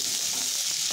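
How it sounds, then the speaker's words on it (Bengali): Potatoes for jeera aloo fry in a pan with a dense, loud, steady sizzle and crackle close to the microphone, and no talking over it. "আলুটা ভাজা ভাজা হয়ে এসছে, আলুর কালারও চেঞ্জ হয়ে গেছে"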